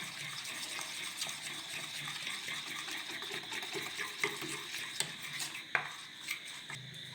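Gram flour batter whisked in a bowl makes soft repetitive scraping and light clinks of metal against the dish, quiet and close, with no voices.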